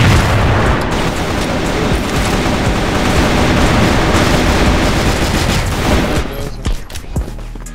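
A grenade blasts in the shooter game CrossFire, setting off a loud, sustained roar of booms and rapid gunfire that lasts several seconds before dying away.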